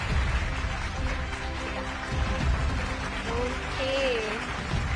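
Steady applause from a stage-event audience welcoming Afrin, a continuous wash of clapping over a crowd murmur, with a few brief tonal whistles or cheers rising above it.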